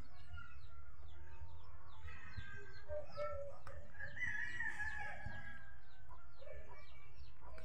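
Chickens cluck and call nearby in a busy, uneven stream, with a rooster-like crow rising briefly in the middle over faint background noise.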